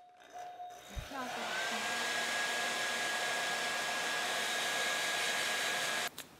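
A hair dryer used to loosen a strong adhesive sticker starts up and blows with a steady, loud whooshing whine, then cuts off abruptly after a few seconds.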